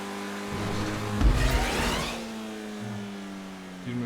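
A race car drives in a GTA V Online race, a steady droning engine that surges briefly with a whooshing rise, then settles back to a constant hum, loud and without speech.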